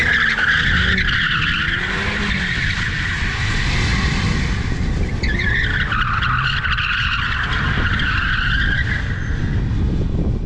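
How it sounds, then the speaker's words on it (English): A Pontiac G8 GT or Saturn Sky RedLine spins donuts, its tires squealing and skidding continuously and loudly under a steady engine roar for the whole stretch. "We'll see if we can get some donuts."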